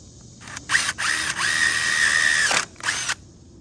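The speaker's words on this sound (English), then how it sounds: "we're going to use this same countersinking drill bit that we used yesterday, and we're going to put 2 holes here" A power drill with a countersinking bit drills screw holes into wood rafters for a chicken tractor, whining loudly in several close bursts with one long sustained run, motor revving up and stopping between pulls.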